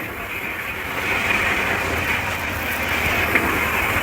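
An LG commercial dryer runs with a loud, steady rumbling and whooshing drone that holds at an even level throughout, with no voices.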